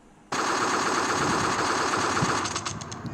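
A sudden, continuous burst of rapid gunfire erupts after a moment of quiet, loud and rattling without pause.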